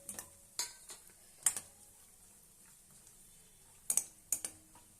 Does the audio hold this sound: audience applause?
no